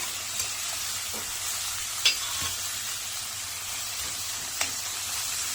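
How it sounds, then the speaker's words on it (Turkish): Onions sizzle steadily in a hot pan while cooking menemen, a constant crackling hiss with a few sharp pops and the occasional clink of stirring. "Soğanımızı pembeleşene kadar pişiriyoruz."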